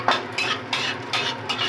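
Chopped garlic fries in hot oil while a utensil stirs it, producing soft sizzling broken by about five rhythmic scraping strokes against the pan.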